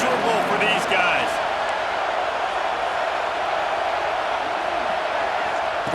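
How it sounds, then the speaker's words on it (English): A packed stadium crowd roars in EA Sports College Football 26, a steady loud wash of noise with brief cheers at the start, continuing evenly throughout. "This crowd going to try to make life miserable for these guys."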